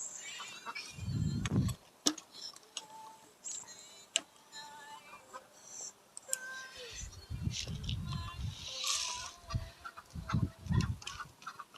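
Backyard chickens and ducks clucking and calling in scattered bursts on a snowy day, with some low thumps and handling noise, while a person talks intermittently.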